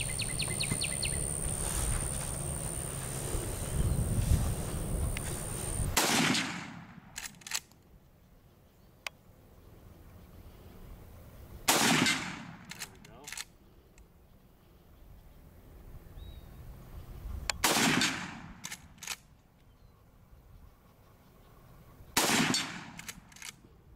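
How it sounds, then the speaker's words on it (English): A Marlin 336 lever-action rifle in 35 Remington, firing reloads at a steel target, fires four sharp, loud shots spaced several seconds apart. Faint ringing and outdoor ambience follow each shot. "I'm gonna be shooting a blue steel target."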